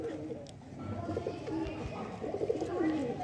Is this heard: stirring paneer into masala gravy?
no